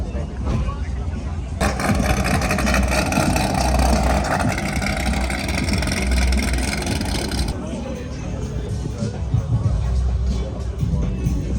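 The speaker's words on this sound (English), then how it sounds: "That exhaust is insane." Loud, sustained exhaust drone from a modified car at an outdoor car meet, rumbling continuously with a rise in intensity partway through, with crowd chatter underneath.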